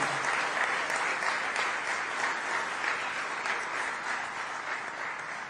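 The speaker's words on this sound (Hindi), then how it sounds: "आप भी तालियां बजा के उनका स्वागत कीजिए" An audience at a religious festival gathering applauds to welcome a guest, a steady, dense wash of clapping that holds evenly for several seconds, somewhat distant and without any standout voices.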